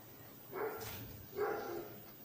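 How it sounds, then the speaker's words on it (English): Two muffled barks from a dog at some distance, spaced under a second apart, fairly faint against a quiet background. "The dog is barking"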